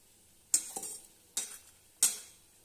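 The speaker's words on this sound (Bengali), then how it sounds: "আর কড়াইতে এইভাবে এই যে মশলাটা আমি দিয়েছি, দিয়ে এই যে নাড়ছি।" Ground poppy seed and cashew paste with a little salt is stirred in a wok, giving three short scraping strokes with faint sizzling and brief metallic clinks, close and quiet.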